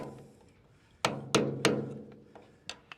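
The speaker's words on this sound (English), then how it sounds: "I'm just chipping off the epoxy paint" An old cheap wood chisel chips epoxy paint off a boat's rudder and prop assembly, making several sharp, close knocks at irregular intervals, three bunched together and then fainter taps, each with a short ringing decay.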